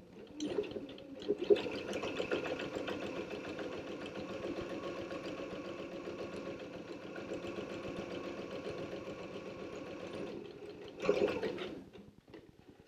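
A sewing machine runs steadily for about ten seconds, stitching the right sides of an ironing board cover's edges together, with short bursts at start and end and no talk.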